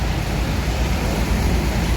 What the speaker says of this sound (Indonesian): Lalu lintas udah mulai ramai.